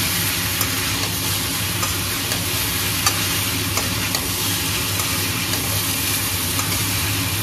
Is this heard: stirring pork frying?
yes